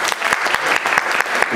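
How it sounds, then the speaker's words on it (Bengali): Audience applause at a Udichi New York Hemanta Utsab cultural event in a school hall; loud, close clapping with distinct individual claps audible in a brisk, uneven rhythm throughout the short burst. "একটি করতালি দেবেন।"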